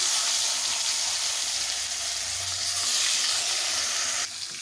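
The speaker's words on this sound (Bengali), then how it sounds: "তেলটা আমার ভালোভাবে গরম হয়ে গেছে দিয়ে দেবো মাছের মাথা" Loud, continuous sizzling of a rohu fish head frying in hot oil, a dense crackling hiss throughout with no voices.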